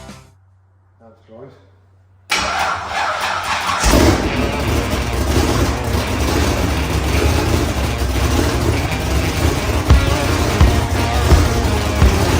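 A 1000-horsepower supercharged engine from a barn-find drag car cranks and fires up, bursting into a loud, rough, sustained idle after a quiet moment of faint background noise.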